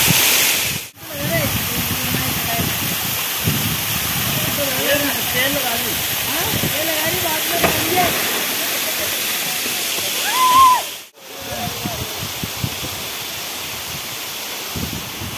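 A waterfall near Ajmer Sharif roars in a constant broadband rush, with indistinct voices talking faintly underneath and two brief dropouts.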